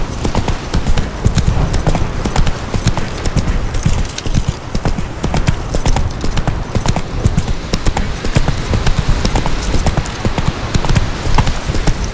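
A horse gallops in the video game The Witcher 3, its hooves pounding in a fast, continuous, loud clip-clop rhythm close up, with no one talking over it.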